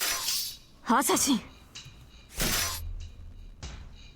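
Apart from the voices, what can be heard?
swords clashing and breaking in Fate/Stay Night visual novel game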